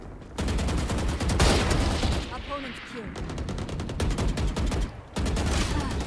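Rapid automatic gunfire and overlapping shots from a Valorant deathmatch, loud and nearly continuous with a brief lull midway, while a player's voice talks over the game.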